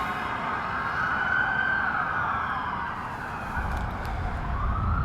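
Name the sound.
emergency vehicle siren in Washington, D.C. street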